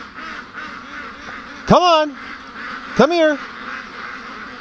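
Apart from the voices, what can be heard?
Muscovy duck quacking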